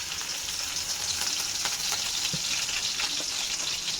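Green chillies frying in hot oil in a pan, a continuous bright sizzle and crackle, loud and close, with a few faint clinks along the way and no one talking.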